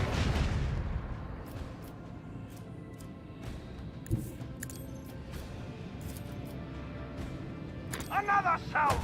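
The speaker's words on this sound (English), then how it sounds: "Macro cannon, volley!" Macro cannon volley from a ship in the video game Warhammer 40k: Rogue Trader, a heavy booming blast at the start that rumbles down into a long roaring tail, with speech over it and sharp bursts near the end.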